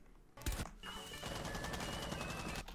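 Gunfire from the video game Rainbow Six Siege comes as rapid automatic bursts, loud and sustained for most of the short stretch, with sharp reports and a high ringing tone over the shots.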